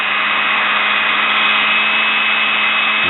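A repaired sewing machine motor running at half voltage whines steadily and loudly close by, with a sustained high tone as it strains to speed up, heard alone.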